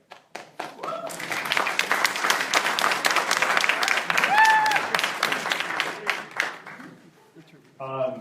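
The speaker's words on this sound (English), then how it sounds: "I don't mind applause." Town hall audience in Langley, Washington breaking into sustained applause and clapping that swells and fades over several seconds, with a few voices and whoops mixed in before talk resumes at the end.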